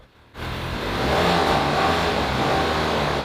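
A neglected Ferrari 360 Spider under repair revs after a burst of throttle, the engine snapping from near quiet into a loud, sustained, raspy roar that holds steady for about three seconds, close by with no talking.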